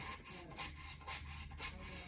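A hand rubs back and forth across the rough wooden body of a guitar in steady, rhythmic strokes, a dry scraping rasp roughly twice per second, close up.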